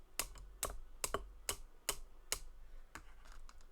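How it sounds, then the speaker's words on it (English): Sharp, evenly spaced tapping like a little hammer at work, about eight crisp knocks in a steady rhythm, close and fairly quiet with no voices over it. "A tap, tap,"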